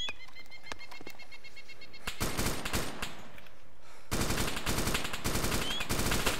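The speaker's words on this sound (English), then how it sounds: "Taking fire." Automatic weapon fire in the military video game Arma 2, with dense bursts of rapid, loud cracking shots, a quieter patch with scattered single shots, then sustained heavy bursts toward the end.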